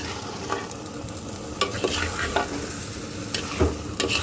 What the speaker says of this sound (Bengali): আঁচটা একটু কম রেখে আমি এটাকে সুন্দর করে কষাবো।